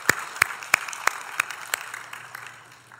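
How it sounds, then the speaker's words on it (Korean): A church congregation welcomes a visiting pastor with a few slow, separate claps spread over a few seconds. The claps then thin out into a quiet room. "우리 같이 박수로 환영해 주셨으면 좋겠습니다"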